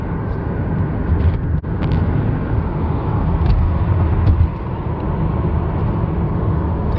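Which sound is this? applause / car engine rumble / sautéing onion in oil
car engine rumble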